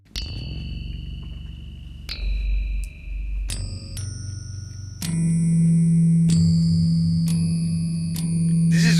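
AdStation additive synthesizer app on iOS playing a sound: bright bell-like chiming tones entering one after another over a sustained low drone, building into a layered, shimmering chord, loud and close with no voices.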